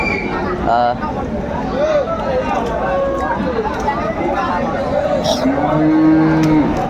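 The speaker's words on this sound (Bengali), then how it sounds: "মার্ভেলাস মার্ভেলাস গরুগুলো অনেক সুন্দর" Several Sahiwal-breed cows moo, long low calls rising over a busy crowd murmur at a cattle market, with people talking nearby throughout.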